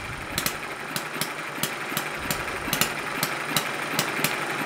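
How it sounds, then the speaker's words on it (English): A small Chinese-made hit and miss engine runs alone after carburetor adjustment, with regular sharp firing pops roughly every quarter to half second over a steady mechanical clatter. "But as you can see, it is in fact now working properly. And it definitely runs a hell of a lot better on this stuff."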